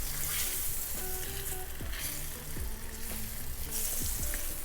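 Floured yellowtail snapper fries in a pan with a loud, steady sizzle and crackle, broken by a few hollow clunks from a utensil against the pan.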